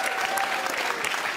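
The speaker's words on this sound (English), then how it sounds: "another round of applause while we say goodbye" A crowd at a burrito competition event applauds continuously at moderate volume, a busy patter of many hands with a few sharper claps and faint cheering mixed in.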